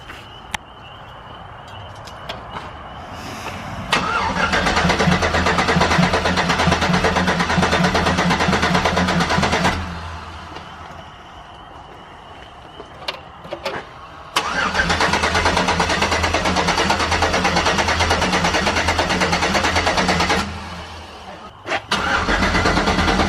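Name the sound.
Big Cam diesel truck engine starting up for first time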